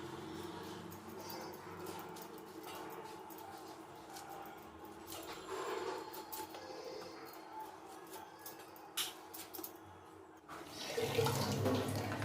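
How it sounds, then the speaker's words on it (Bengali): Running tap water splashes over a young jackfruit being rinsed in a kitchen, a steady close trickle with shifting splashes and a louder gush toward the end. "এবার এঁচড়টা ধুয়ে নেব।"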